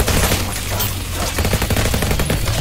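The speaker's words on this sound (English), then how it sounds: "A nail gun shooting." Rapid nail gun fire against zombies in a tower defence first-person shooter game, a loud, dense stream of overlapping shots that runs continuously.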